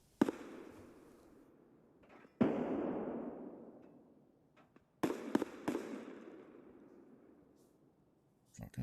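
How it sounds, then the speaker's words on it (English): Shotgun blasts in the video game Escape from Tarkov, with a few loud booming shots that echo and fade away, and some sharper cracks in between. "Shotguns fighting each other."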